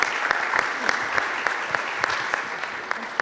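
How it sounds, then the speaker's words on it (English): Applause from an audience at a morning 1 Million Cups entrepreneur meetup in Kansas City, with individual claps clearly audible in a steady, moderately quiet patter. "Give her a round of applause."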